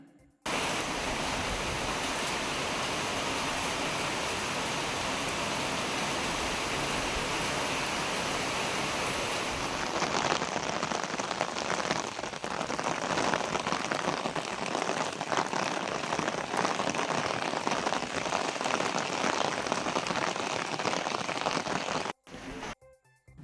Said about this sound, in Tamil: தமிழகத்தின் பல்வேறு பகுதிகளில் மழை பெய்தது